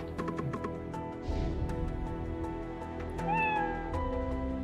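A cat character meows repeatedly in the platformer game Skul: The Hero Slayer, a series of clear, close meows mixed with chiming game effects and clicks, with no talking.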